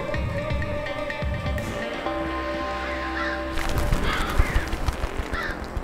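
Crows cawing in the run-and-gun video game Huntdown, several harsh calls in the later part over a steady game soundscape with music and a low engine drone.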